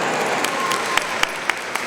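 Clapping at a Pilot International convention general session in Rochester, a brief spell of crowd hand claps with a few distinct sharp claps close by.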